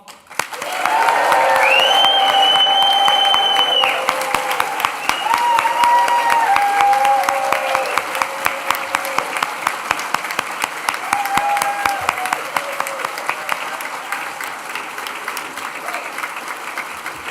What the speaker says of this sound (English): let's raise the roof with a huge cheer and round of applause